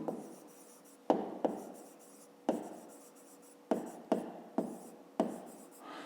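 A pen writes by hand on paper in a fifth-grade maths exercise, steady scratching strokes broken by several sharp taps as it lifts and lands, close and quiet.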